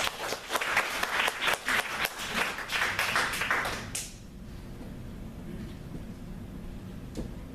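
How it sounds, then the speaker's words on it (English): An audience gives a round of applause for public speaking champion Darren LaCroix, loud dense clapping that cuts off abruptly about halfway through, leaving a quiet room with a few faint knocks. "Round of applause for Darren."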